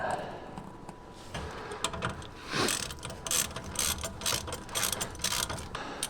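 A ratchet clicks in quick bursts while working a caliper bracket bolt on the front brakes of a 2007–2013 GMC Sierra or Chevrolet Silverado pickup, close up with faint background sounds between strokes.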